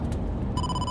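Phone ringing inside the video game AI: The Somnium Files, a steady electronic ring with bright sustained tones that kicks in about halfway through and holds to the end, loud over a low background bed.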